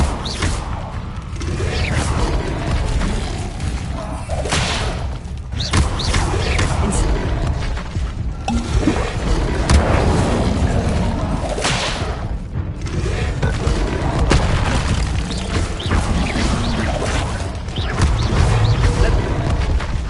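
Incendio fire spells cast in the video game Hogwarts Legacy, loud whooshing bursts and booming impacts repeating every few seconds over a busy combat background, with a voice calling out.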